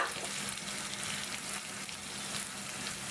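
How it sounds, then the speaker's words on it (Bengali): Onion paste with cardamom fries in a pan for an egg korma, giving a steady, even sizzle that holds at one level throughout, close and continuous with no voices. "এখন এটা খুব ভালো করে নাড়বো"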